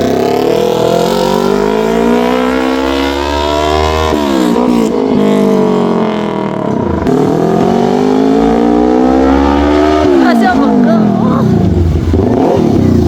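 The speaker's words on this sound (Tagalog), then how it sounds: "Ang motor na nabili natin ay x 4 Ninja Kawasaki na may 400cc" A Kawasaki Ninja 400 motorcycle engine revs up loudly and drops back, twice in a row, with rising and falling whine close by; a voice may be faintly underneath.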